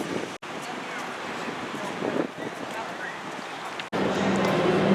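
Steady roaring wind noise buffets the microphone outdoors on the San Antonio Riverwalk, a dense rushing hiss that barely lets up, with a brief dropout partway through.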